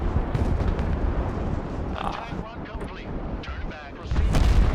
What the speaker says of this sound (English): Bomb something, nuke goes off.